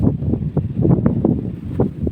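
Strong wind buffeting a microphone outdoors near an abandoned village during metal detecting, low rumbling gusts that swell and pulse in irregular bursts, close and loud.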